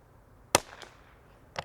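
A rifle fitted with a DNT Optics Zulus 4K digital scope fires one sharp, close report. A quieter pop follows, then a second crack near the end of the short, otherwise quiet stretch.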